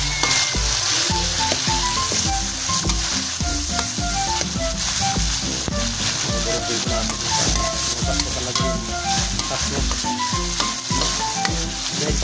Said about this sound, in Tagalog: Lagi po natin haluhaluin para hindi po masunog. Para po madaling lumambot yung kamatis.